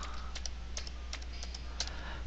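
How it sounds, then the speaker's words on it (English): Typing on a desktop computer keyboard, a quick irregular series of light clicking keystrokes over a steady low electrical hum, with no talk. "You can also use your keyboard on your desktop"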